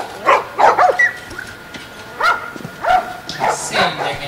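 Dogs in a quarantine-zone market in The Last of Us, several short barks, yips and whimpers scattered irregularly, fairly close and loud.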